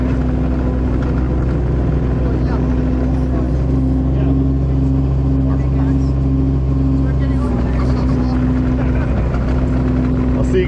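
Mini excavator engine revving with throttle on a trail job, a loud steady diesel drone with a shifting whine that dips and rises midway, running continuously close by with a voice faintly underneath.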